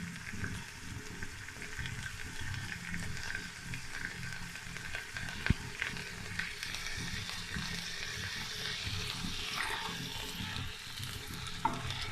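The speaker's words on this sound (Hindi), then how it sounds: "दो मिनट हो गए हैं गाजर को भूनते हुए" Carrots frying in oil for a chicken and vegetable fried rice: a steady, close hiss and crackle, with a stirring scrape running through and a few sharp clicks, no voices.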